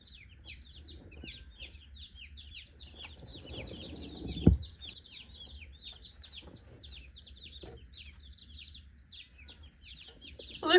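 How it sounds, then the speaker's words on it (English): Newly arrived mail-order baby meat chicks cheep in a dense, continuous chorus of high peeps throughout, with a brief low thump partway through. "Look who else is excited that the chickens have gotten here."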